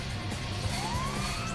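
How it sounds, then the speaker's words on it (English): Rising wail of a siren from healer enemies in Final Fantasy XIII-2, a single gliding tone sweeping upward over steady game background noise. "They have the siren noise."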